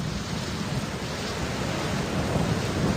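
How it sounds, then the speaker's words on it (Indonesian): A steady, dense roar of heavy rain and rumbling thunder from a storm with strong winds fills the whole stretch, loud and unbroken with a slight swell toward the end, and no voices. "Badai sudah turun."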